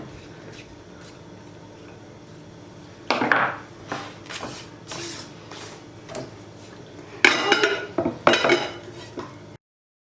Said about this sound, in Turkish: krem harcını hemen başka bir kaba alayım şöyle bir tabağın içerisine